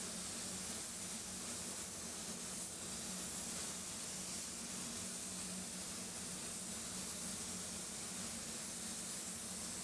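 A steady, continuous hiss of an HVLP spray gun laying silver metallic base coat onto a BMW 320i, with the fluid wound fully open and the fan wide. It runs unbroken and fairly loud throughout, with no talk.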